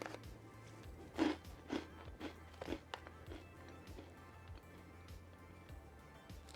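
Crunchy baked cheddar veggie-infused protein puffs being bitten and chewed close up, a few distinct crisp crunches early on followed by quieter chewing over low background hum.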